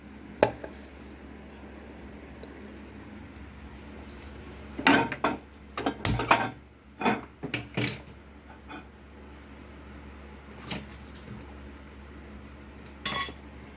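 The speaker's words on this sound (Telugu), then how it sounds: "తర్వాత స్టవ్ మీద ప్యాన్ పెట్టేసుకొని ఆయిల్ హీట్ చేసుకుందామండి." In a home kitchen, a pan is set on the stove to heat oil for deep-frying a potato snack, with a cluster of metallic clanks and knocks amid scattered lighter clinks over a low steady hum.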